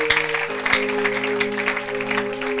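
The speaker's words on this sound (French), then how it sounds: "Acclamez pour la gloire de notre Dieu, notre Seigneur" A church congregation claps in praise during a sermon, a dense patter of hand claps running steadily over sustained electric keyboard chords, moderately loud and close, without speech.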